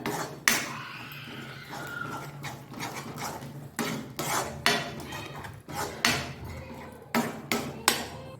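A utensil repeatedly knocks and scrapes against a pan as ground spice powder is stirred into mushroom gravy, sharp metallic strikes arriving in uneven bursts over quiet background.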